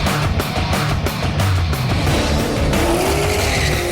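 Race cars launching hard off a quarter-mile drag strip start and weaving through slalom poles, engines roaring loud and close with tires squealing and skidding throughout.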